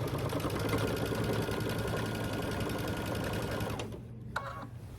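A sewing machine stitching down a quilt binding, a steady close whirring drone of rapid stitches that runs for about four seconds before stopping, followed by a faint click.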